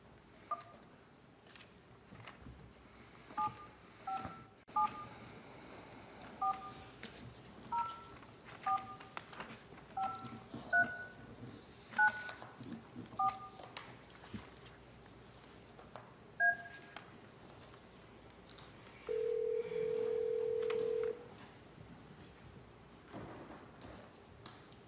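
A telephone on speakerphone dials a number during a historic district review board meeting. A quick run of keypad tones sounds at a steady pace, then a short steady tone, all fairly faint in a quiet room.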